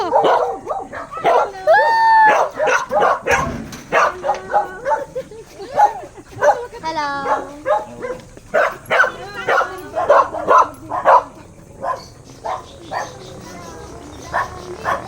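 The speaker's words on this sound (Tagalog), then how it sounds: "Ang dami yung aso." A pack of dogs barks, yips and whines close by in overlapping bursts while voices talk alongside.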